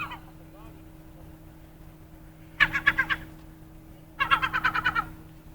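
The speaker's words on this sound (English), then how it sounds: "noisy seagull, eh?" Seagulls calling near a ferry at Horseshoe Bay, two loud bursts of rapid repeated squawking cries standing out against a low steady engine hum, with a short faint call near the start.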